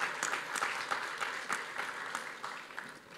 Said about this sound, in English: big round of applause for us